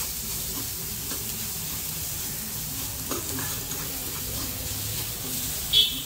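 Masala spices sizzle and fry steadily in hot oil while being stirred, a continuous close crackling hiss with a brief sharper spatter near the end, no voices.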